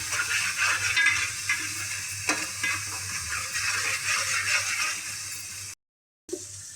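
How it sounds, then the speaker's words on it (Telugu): Onion, ginger-garlic paste and turmeric fry in a pan with a steady, close sizzle and a few soft stirring scrapes, broken by a short silent gap near the end. "పసుపు వేసుకున్న తర్వాత ఇవి కొంచెం పసుపు ఫ్రై కాగానే"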